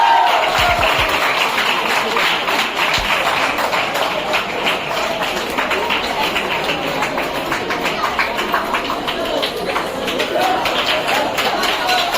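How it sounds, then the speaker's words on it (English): Loud, sustained applause from a large crowd at a college BBA fest fills the whole stretch, dense and continuous with no breaks. "Please give a big round of applause."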